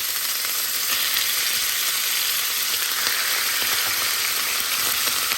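Meat sizzles and fries in hot oil in a pan for a tortilla filling, a steady, loud crackling hiss throughout with small pops, close by and alone.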